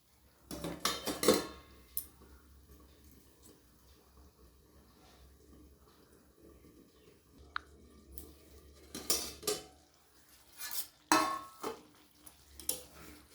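A pot of broccoli-stem gravy, with a splash of pan-rinsing water added, gets covered: clustered metallic clanks of a lid and utensils near the start and again later, separated by a quiet stretch of low simmering.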